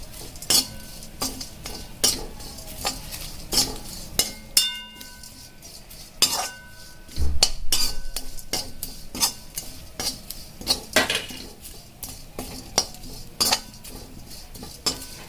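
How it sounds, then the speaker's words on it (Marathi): Grated coconut roasts in a pan for a spicy country-chicken curry while a metal spoon repeatedly scrapes and clinks against the pan, producing irregular sharp knocks over a faint sizzle. "याला आपल्याला हलवायचं आहे जेणेकरून ते जळल्या नाही पाहिजे"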